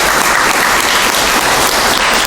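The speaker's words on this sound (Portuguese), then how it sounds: "Aplauso para Jesus Cristo." A congregation at a Christmas Eve service bursts into steady, dense applause, many hands clapping together loudly and continuously without pause.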